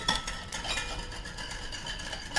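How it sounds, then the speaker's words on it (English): A whisk beats through a liquid flour mixture in a bowl, giving rapid rhythmic scraping strokes against the sides, close and fairly quiet. "see how I'm whisking the entire time to make sure that no clumps got through"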